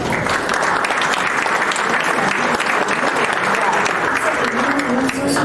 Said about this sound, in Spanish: Así que le damos un fuerte aplauso y la bienvenida.